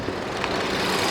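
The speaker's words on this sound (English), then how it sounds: "All right, folks, this is the engine." A 2016 Ford Explorer Police Interceptor engine idling, a steady low rumble with a smooth, even hum, close and continuous for about a second.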